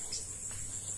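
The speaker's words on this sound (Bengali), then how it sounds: "ঝিরিশ পোকা ডাকে," Crickets chirp in a village at dusk, a continuous high shrill trill at moderate volume with faint background noise and no talking.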